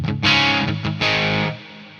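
Electric guitar through a McRocklin PolyChromeDSP pedal on its edge channel, loud distorted chords struck in two sustained bursts with a short choppy hit between them, fading at the end.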